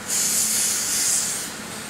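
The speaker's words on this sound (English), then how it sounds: "spray them down with brake clean" Brake cleaner sprays from an aerosol can onto engine flat tappet lifters, a close, steady hiss lasting nearly two seconds with no talking.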